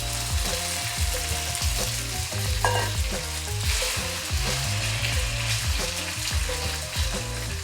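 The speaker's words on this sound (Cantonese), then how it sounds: "先將啲雞肉炒佢先" Chicken pieces coated in sauce and cornstarch are stir-fried in a wok over a high flame, giving a loud, continuous sizzle with rhythmic tossing and scraping throughout.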